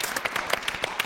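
Scattered hand claps from an audience at an Armenian stage event, sparse and moderately near, with no talking over them.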